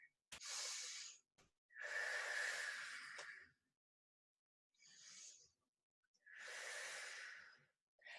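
Slow, deep breaths taken during a front-splits stretch in a flexibility class, four long airy inhale and exhale passes with short pauses between, close and fairly quiet with no talking.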